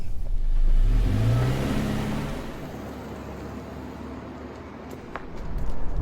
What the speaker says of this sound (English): here is the single muffler exhaust